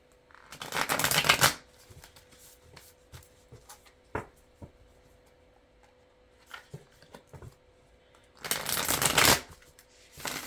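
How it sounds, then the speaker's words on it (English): Two quick riffle shuffles of a deck of cards, crisp fluttering bursts near and clear, separated by soft card handling taps and quiet pauses. "I'm going to shuffle them a couple more times and cut the deck"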